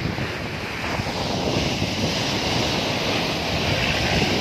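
Water flowing along the Hub Dam canal near the Northern Bypass, a loud, continuous rushing wash with some wind noise on the microphone and no voices.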